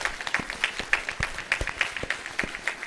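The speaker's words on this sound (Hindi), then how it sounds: "तो आपने बहुत अच्छा योग किया, तो अपने लिए ताली बजाओ आप।" An audience claps for itself after a group yoga session at a yoga camp, a steady patter of many hands at moderate distance, continuing for several seconds with no voices.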